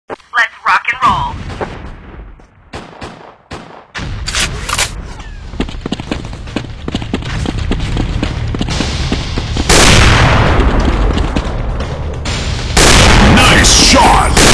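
Gunfire in Gun War, a zombie shooting action video game: dense bursts of shots and booms build into sustained loud firing, with a short quieter gap near the start and a brief voice.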